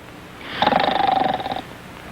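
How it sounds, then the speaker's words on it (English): A single drawn-out snore, a rumbling throaty rattle lasting about a second with a steady pitched buzz running through it, close and fairly quiet. "I know what you sound like when you snore."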